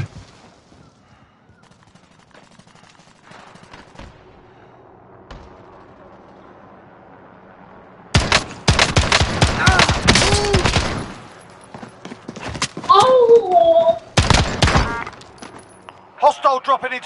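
Gunfire in the video game Warzone, a quiet stretch followed by loud close automatic bursts in several clusters, with a voice talking during the action.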